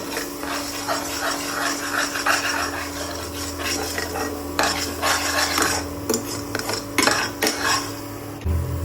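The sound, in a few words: stirring and breaking up beaten egg in a pan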